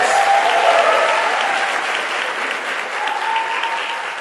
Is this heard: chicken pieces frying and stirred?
no